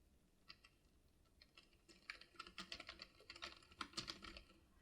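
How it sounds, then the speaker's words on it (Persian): Fingers type on a computer keyboard during design work in Figma, sparse keystrokes at first, then a quick, uneven burst of clicky taps, close and fairly quiet, with no talking. "حالا من توی این فضا میتونم تایپ کنم"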